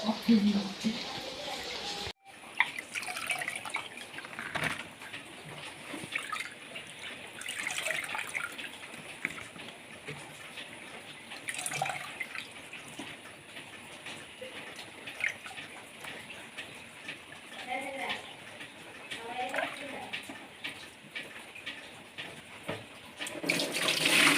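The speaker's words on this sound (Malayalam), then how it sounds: "ഇനി നമുക്കിത് നന്നായിട്ട് കഴുകി വൃത്തിയാക്കി എടുക്കാം" Tap water runs steadily over cut small fish, likely nathal, as they are rinsed in a home kitchen. There is a short break near the start, then a continuous splashing rush, with occasional voices.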